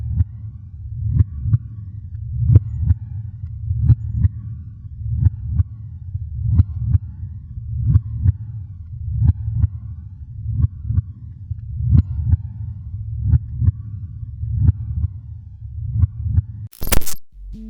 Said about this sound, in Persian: صدای تپش قلب مادرش رو درست کنار گوشش میشنوه